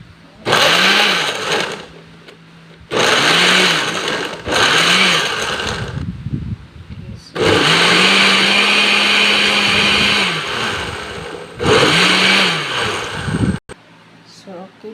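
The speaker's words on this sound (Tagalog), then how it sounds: "let's blend our pearl and kiwi" A kitchen blender blends pear and kiwi in several loud bursts, its motor whirring up and cutting off between pulses, with a longer run in the middle and brief pauses of quiet between.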